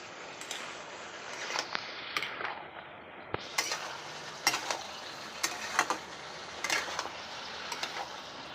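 Ash gourd with turmeric being stirred in a pan: faint scrapes and light taps of a spoon over a soft, continuous background hiss, spaced out irregularly and quiet overall.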